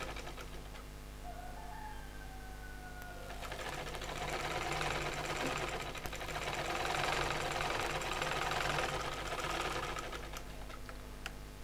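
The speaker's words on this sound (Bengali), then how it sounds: "তারপর সেলাই করব" A sewing machine stitching a divider salwar runs in a continuous whirring, mechanical drone that swells louder midway and stays steady and close throughout, with no speech over it.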